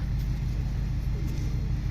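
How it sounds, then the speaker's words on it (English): A large truck engine running across the street gives a steady, deep, continuous rumble at moderate distance that holds evenly throughout, with no voices on top. "Got a big bad truck across the street started up, but the pigeons are unfazed."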